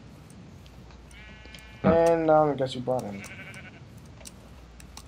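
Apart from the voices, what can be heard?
sheep bleating in Minecraft video game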